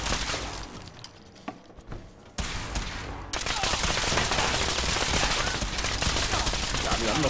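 Rapid gunfire from a weapon in Fallout 4, dense automatic bursts that grow louder and steadier in the second half, with a faint voice underneath early on.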